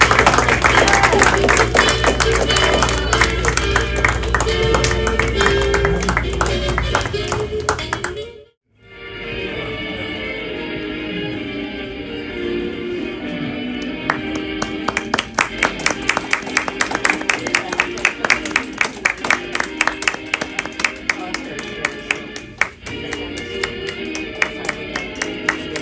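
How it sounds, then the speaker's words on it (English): Audience applause after a performance at an old time radio show at La Loma, a steady wash of clapping from a full crowd, with a brief pause partway before the clapping resumes with sharper individual claps. "Let's have a round of applause for our players."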